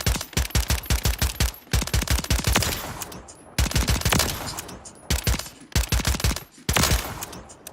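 Gunfire in the Call of Duty MWR video game comes as quick clusters of sharp shots, several runs of rapid cracks separated by short pauses, loud and close with no talking.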